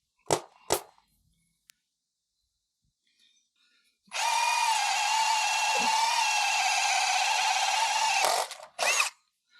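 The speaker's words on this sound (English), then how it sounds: "This is a 2-inch hole saw that should about break your arm." A 2-inch hole saw on a power drill bores through material on a GMC/Chevy truck while a 7-pin trailer plug is fitted, a steady loud grinding whine of about four seconds, with a few short knocks before and after.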